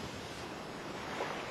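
Sea waves breaking on a treacherous stretch of coast, a steady broadband wash of surf with some wind noise, continuous and fairly faint, without voices.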